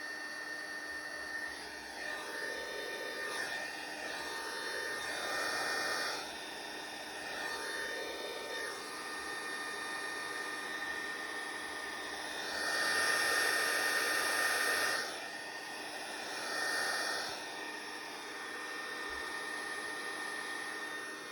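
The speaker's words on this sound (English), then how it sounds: "I'm going to try moving it around with this blow dryer" A handheld blow dryer runs steadily at close range with a broadband whoosh that swells louder in bursts as it is moved around over a desk, with no talking.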